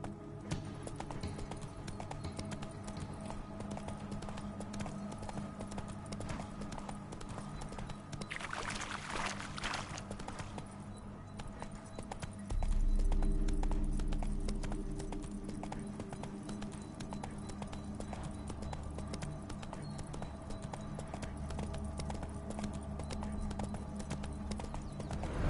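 Horse hooves clip-clopping at a steady walking rhythm in The Witcher 3 video game, close and fairly quiet, with a brief watery rush and a low rumble partway through.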